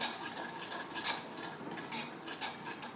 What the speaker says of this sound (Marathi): आता दही आपण चांगले घुसळवून घेऊया.